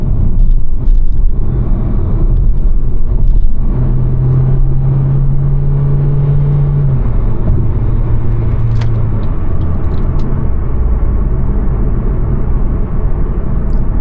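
An Opel Insignia 1.6 CDTI diesel with 172,000 km drives along, its engine a steady low rumble from inside the cabin, with a brief rising tone partway through and no talking.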